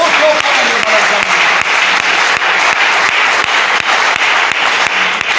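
A church congregation bursts into sustained, dense applause, loud and close, many hands clapping steadily throughout without a break.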